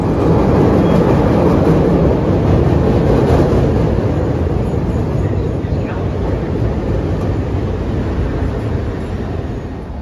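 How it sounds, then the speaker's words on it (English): A Chicago CTA Blue Line train rolls along with a loud, continuous roar of rumble and wheel noise heard from onboard, steady throughout with a faint high whine above it. "we need to take a Blue Line train to Rosemont."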